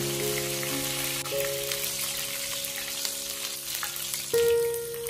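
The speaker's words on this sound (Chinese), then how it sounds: "油热之后下入18颗花椒，给它炸香" Sichuan peppercorns fry in hot oil in a wok, giving a continuous close sizzle and crackle over a faint steady tonal hum.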